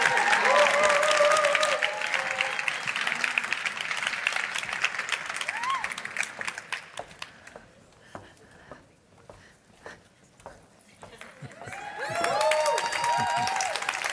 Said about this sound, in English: I'm expecting the applause to be a little louder.